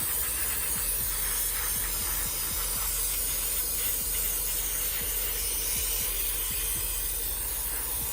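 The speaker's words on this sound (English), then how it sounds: "take your can of carb clean and just kind of send it a spray" A can of carb cleaner sprays onto a Japanese mini truck transmission in one steady, continuous hiss lasting several seconds. Faint knocks sound underneath.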